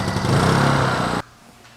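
A small Honda generator engine runs at a steady, buzzing pitch close by while warming up, then cuts off abruptly after about a second, leaving quiet.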